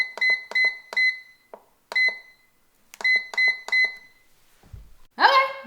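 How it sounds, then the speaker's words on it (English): A Fissler Souspreme sous vide multi pot gives a series of sharp electronic beeps in quick groups with short pauses between them, loud and close, followed by a brief voice at the end. "So it's gonna beep 3 times when it's ready for the food to go in."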